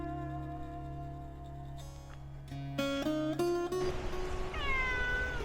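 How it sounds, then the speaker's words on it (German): A cat meowing outdoors, a single drawn-out, rising and falling meow heard over a steady tonal hum and background noise. "Die Katze miaut."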